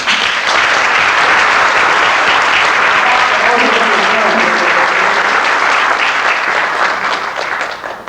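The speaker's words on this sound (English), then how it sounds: "those of us who live here must give them a double applause" A loud, dense round of audience applause at a 1993 Martin Luther King community program, sustained many hands clapping close up, tapering slightly at the end.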